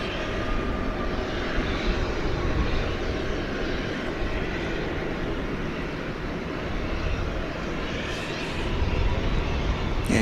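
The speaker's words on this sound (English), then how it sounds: "Arriving from Phoenix, American 2301, Airbus A321." An American Airlines Airbus A321 arriving at DFW airport at night, a steady broadband jet roar that holds at a constant level for the whole stretch, distant but continuous, with no voices over it.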